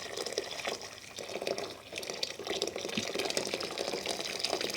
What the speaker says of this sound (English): I'm gonna put the entire contents of the kettle.